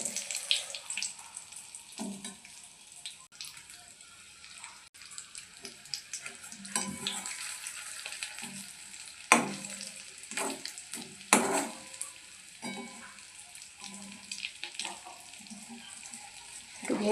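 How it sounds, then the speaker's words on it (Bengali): Bengali chops, battered fritters, fry in hot oil as a steady broadband sizzle, broken by the scrape and clatter of stirring and turning, with louder bursts and occasional water sounds nearby. "এই কটা ভেজে নিই, তারপরে বাকিগুলো ভাজবো"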